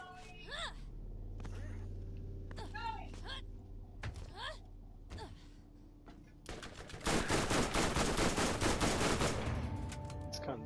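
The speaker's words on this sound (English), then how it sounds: "I like how they just keep on shooting in the vicinity that you're at. They don't stop shooting." Enemy gunfire in the video game Borderlands, a dense sustained burst of rapid shots filling the last few seconds, preceded by scattered sharper in-game sounds and faint voices.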